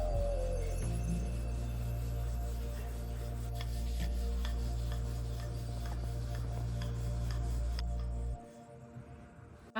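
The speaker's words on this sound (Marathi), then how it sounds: "व्यवस्थित हलक्या हाताने लाटून घ्यायची" Rolling pin pressing out a stuffed semolina and jaggery flatbread, a steady close scraping rub back and forth for several seconds, then stopping abruptly into near silence.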